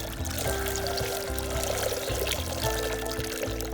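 Water pours steadily from a shower-like toy during a baby's water play, a close, continuous splashing stream running for the whole stretch over a low background hum.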